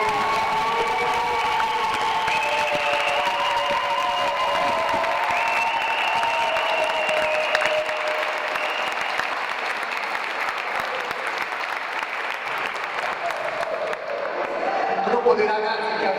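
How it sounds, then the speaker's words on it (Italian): A crowd at a basketball club celebration in Sennori applauds its directors, a sustained, loud wall of clapping with some cheering mixed in, holding steady and swelling slightly near the end. "tutti i dirigenti dell'SD Basket meritano un grandissimo applauso per quello che hanno fatto"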